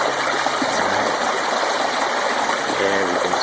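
A creek flows steadily at a gold-panning spot, a constant close rushing and trickling of water filling the whole stretch, with faint murmurs of voices underneath.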